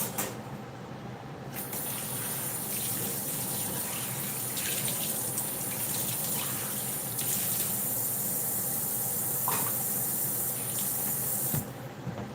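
Water runs steadily from a tap into a sink without a stopper and drains straight out, a constant close hissing spray that lasts nearly the whole stretch.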